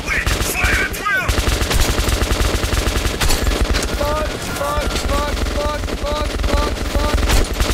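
Continuous loud gunfire in the game Metro 2033 Redux, dense and rapid throughout a busy firefight, with short voices cutting in over the shooting.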